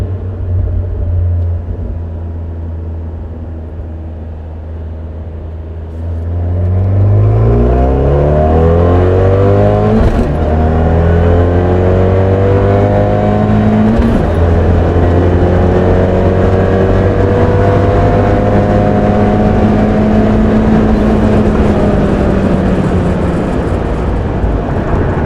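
A Fiat 1.4L MultiAir engine fitted with a Eurocompulsion 1446+ big turbo on a Phase 3 tune pulls hard from 40 to 100 through second to fourth gear. It is loud and close, with rising revs, brief dips at each shift and a sustained drone.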